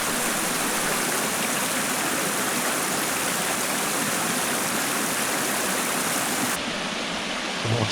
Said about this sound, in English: On the left hand side there's the start of the waterfall.